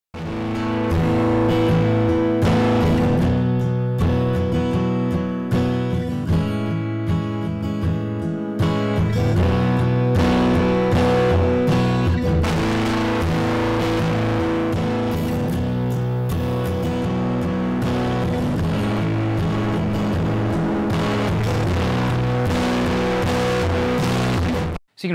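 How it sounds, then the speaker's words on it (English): Distorted acoustic guitar pushed hard into an opto compressor's output stage for a harsh, saturated tone, a dense sustained strummed passage that plays steadily and loudly throughout before cutting off at the end. "I've cranked the output gain to drive the signal to distortion to compare how they sound"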